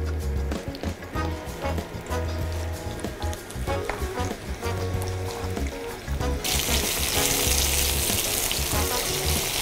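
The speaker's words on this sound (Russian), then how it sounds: "Болгарский перец, шампиньоны уже хорошенько обжарились." Bell peppers and button mushrooms fry in a pan with a steady, close sizzle, joined by the louder hiss of running tap water toward the end.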